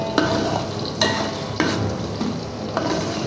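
Sliced onions fry in heated oil for a pulao, a steady close crackling sizzle broken by a few sharp scrapes and clinks of a spoon stirring the pan, with no talking.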